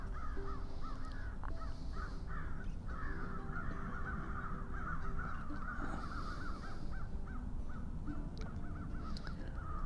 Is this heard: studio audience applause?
no